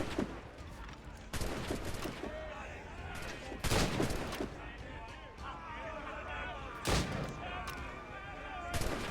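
Naval combat in Assassin's Creed Rogue, with repeated loud cannon and gun blasts bursting out every few seconds over a constant din of battle and shouting voices.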